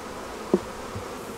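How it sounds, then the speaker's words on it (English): Honey bees shaken off a brood frame make a soft, steady buzzing hum, broken by one brief sharp knock partway through, with no talking. "Now we'll shake the bees off."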